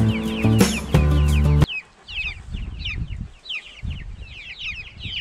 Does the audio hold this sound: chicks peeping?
yes